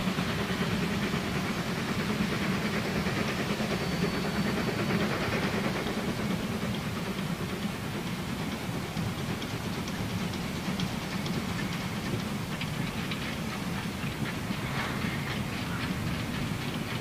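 A Prussian class IV K narrow-gauge steam locomotive pulling into a station on the island of Rügen, a steady continuous rumble and rolling clatter of the train heard from nearby without let-up, no voices.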